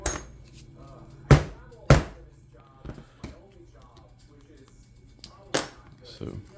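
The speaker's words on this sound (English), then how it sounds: "These are diamond chisels" Diamond chisels for leatherwork strike sharply into leather as stitching holes are punched for a three-pocket card wallet. Several hard, isolated percussive knocks ring out at irregular intervals, with quieter taps between them and faint background noise.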